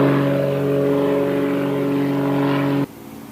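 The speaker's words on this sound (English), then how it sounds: "there's another airplane." A propeller airplane flies overhead, its steady droning engine hum holding for about three seconds and then cutting off abruptly.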